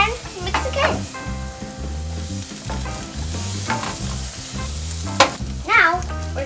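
Egg fried rice with soy sauce being stirred in a hot pan, a steady loud sizzle and frying hiss with repeated scraping, clinking stir strokes of the utensil against the pan.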